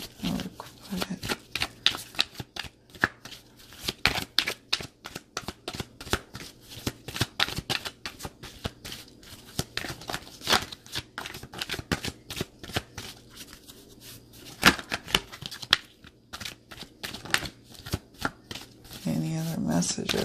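Tarot cards are shuffled close up in repeated bursts of rapid riffling and slapping, with a voice talking intermittently beneath.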